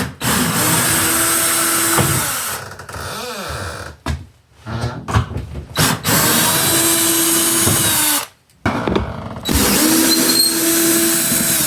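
A power drill whines in bursts while steel roof sheeting is taken off the wall around a window of an off-grid tiny cabin in the woods in Nova Scotia, with several short pauses between runs.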